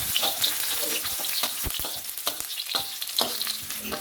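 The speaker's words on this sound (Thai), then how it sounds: "ผัดกระเทียมสับให้เหลืองหอมก่อนครับ" Steady crackling sizzle of minced garlic stir-frying in hot oil, with scraping stirs and clinks of a utensil against the pan, close and continuous.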